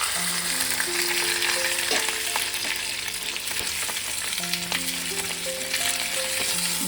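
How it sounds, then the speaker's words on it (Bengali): Leaf-wrapped radish paturi fries in a frying pan with a steady, even sizzle and hiss, and a few light utensil taps and scrapes, no talking. "আর আমি ফ্রাইং প্যানের মধ্যে বসিয়ে দেবো।"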